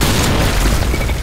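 Loud, close boom of a grenade blast in the shooter game Special Force, a dense broadband burst filling the short moment with rumbling low end.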